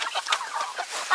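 Several birds honking and squawking in quick overlapping calls, fairly close, a short noisy burst of goose-like cries.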